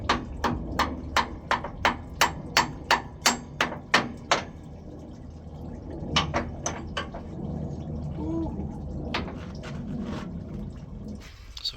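A hammer strikes a pin out of a hydraulic cylinder on a CAT 982M loader, a rapid run of about a dozen sharp metallic blows at a steady rhythm, a pause, then a few more hits before the work goes quiet.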